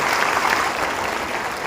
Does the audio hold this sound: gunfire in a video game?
no